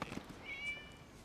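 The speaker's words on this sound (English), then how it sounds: "It was just a cat." A cat meows once inside the video game Genshin Impact, a short, faint, thin call that rises partway through and then fades, with a soft murmur of game ambience beneath it and no talking.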